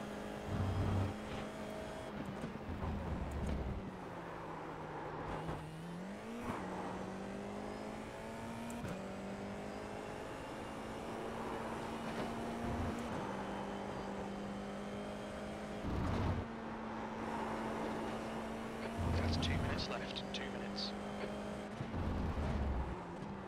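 A race car engine in iRacing at Laguna Seca holds a steady high drone, rising and falling with shifts and revs, alone and fairly close throughout.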